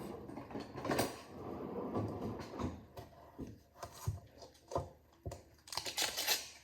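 A knife slices through a stick of butter on a kitchen surface, giving a series of close, soft knocks and scrapes with short pauses between cuts.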